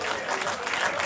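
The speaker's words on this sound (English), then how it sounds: "give a big round of applause" A crowd claps steadily at a rugby sevens tournament after Germany's national team played in the final, a dense, even wash of applause sustained through the brief moment with faint voices mixed in.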